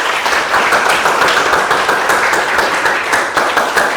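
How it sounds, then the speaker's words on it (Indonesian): A classroom audience gives steady, dense applause at the end of a lesson on drugs. The clapping holds at an even level for a few seconds, with no talking. "Tepuk tangan buat kita semua."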